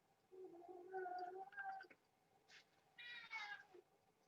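Pet cat named Grizzly meowing close by, a drawn-out two-part meow followed by a brief pause and a second higher, shorter meow, fairly quiet indoors.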